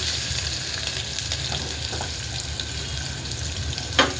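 Sliced onion fries in hot oil with mustard seeds, cumin and curry leaves, giving a close, dense, even sizzle throughout, with one sharp clink near the end and no speech.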